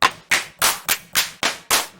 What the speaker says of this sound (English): We can have like claps instead of snares.